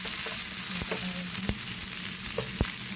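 Garlic sautéing in a pan sizzles steadily as chopped onion goes in, with a few sharp scrapes and stirring clatters punctuating the continuous frying hiss; no voices.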